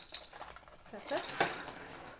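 A homemade kids' slime mixture with baking soda is stirred in a container, producing a short run of soft scraping and wet clicking up close, with a voice faintly in the background.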